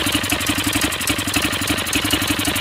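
A Honda BF5 outboard motor converted to run on LPG, held at wide-open throttle, drones close and loud with a steady, fast, even pulsing beat throughout.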